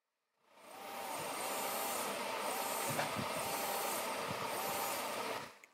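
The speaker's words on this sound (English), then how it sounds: "Switch on the power button, and test for motor's reaction to your hand movements." A small motor pump in a homemade hand sanitizing machine switches on and runs for about five seconds with a steady whirring hum and spray hiss, then cuts off abruptly.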